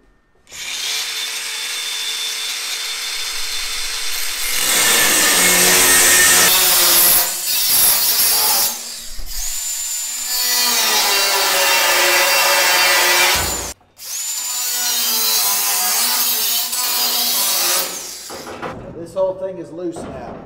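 Power saw cutting through metal manger dividers in a livestock barn, a loud sustained grinding rasp in long passes with short pauses between cuts, close to the microphone.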